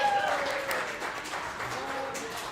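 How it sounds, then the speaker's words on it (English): A small crowd applauds for a girl at a girls' flag football gathering, a steady patter of clapping that lasts a couple of seconds at moderate volume. "Clap it up for Charlotte."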